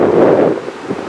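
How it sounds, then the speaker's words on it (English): Strong wind gusting outdoors in a town street, buffeting the microphone with loud low rumbling that eases partway through. "It's windy! It is windy."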